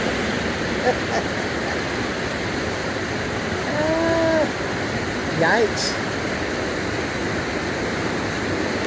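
A river rushes and a waterfall pours on the Alder Flats Trail, a steady loud wash of water throughout, with a brief voice and faint bird-like chirps over it.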